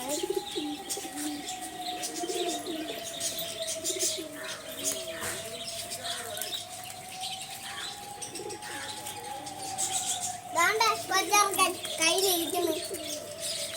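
A pigeon with a neck problem coos in soft repeated phrases close by, with chirps and a brief flutter near the end, while a person talks throughout in a steady hum.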